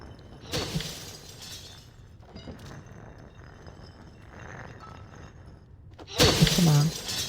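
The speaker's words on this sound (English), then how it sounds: "do I need this hammer to break this glass?" Glass shatters twice in the video game Little Nightmares as it is smashed with a hammer, two bright crashing bursts near the start and end, with quieter rustling in between.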